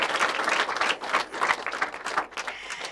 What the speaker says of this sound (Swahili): Makofi mengi kwenu jamani.